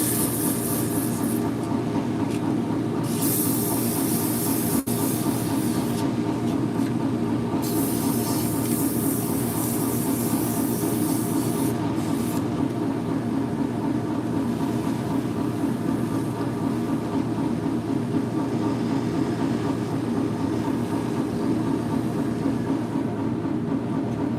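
Spinning workpiece wrapped with sandpaper on a lathe during a test spin, a steady rumbling whir with a constant rushing hiss, bursts of higher hiss early on and a brief click near the start.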